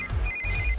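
A telephone rings with a steady electronic ringtone, a sustained bright tone lasting under a second over low background rumble, with no one speaking.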